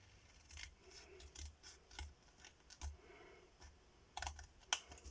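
Scissors cutting paper for baby shower decorations, a string of crisp snipping and rustling strokes at an uneven pace, close and quiet, with a sharper cut near the end.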